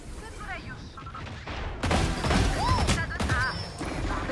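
Gunshots ring out in the Valorant shooter game, a burst of sharp cracks and impacts that grows louder and denser in the second half, mixed with game effects.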